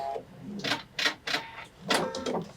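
A Pfaff sewing machine stitches with very low tension, giving several short bursts of fast mechanical whirring and clatter separated by brief pauses, close and fairly loud.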